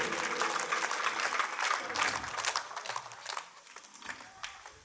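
An audience at the Sahrudaya Chorode residence association's cultural meeting claps together in dense, steady applause that thins and fades out toward the end.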